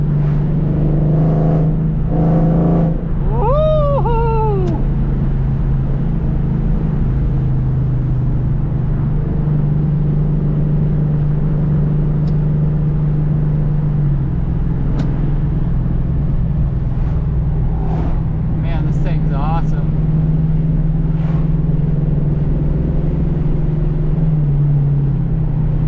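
A Fox body Ford Mustang with a swapped Coyote V8 being driven, heard from inside as a loud constant engine drone with a few rev changes and gear shifts early on, then steady cruising.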